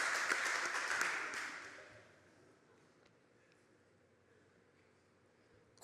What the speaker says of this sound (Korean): 유일 목사 박수 한번 쳐봅시다.